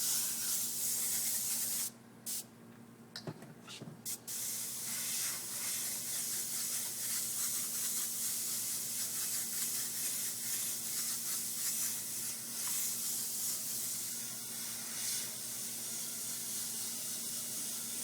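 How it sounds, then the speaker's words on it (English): A Badger airbrush sprays paint in a long, steady, soft hiss, cutting out briefly in a few short gaps near the start before running continuously again at close range. "the airbrush is performing perfectly"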